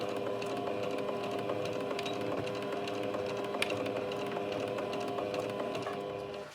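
A sewing machine runs continuously with a steady, quiet mechanical whir, stitching around three sides of a cloth storage bag.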